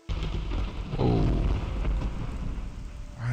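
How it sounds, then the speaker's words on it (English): Rain and a rolling thunder rumble from a storm in the video game Morrowind, a steady close downpour with a deep low growl swelling and fading over a few seconds, no voices. "It's raining again."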